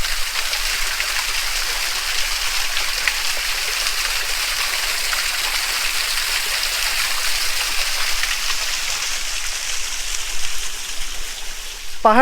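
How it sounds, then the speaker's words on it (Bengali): Steady broadband rush of the Gitkhola Three Sisters waterfall in the hills near Lungsel village, a continuous close roar of falling water with no pause. "এই হচ্ছে গীতখোলা থ্রি সিস্টার্স ওয়াটারফল পাহাড়ে"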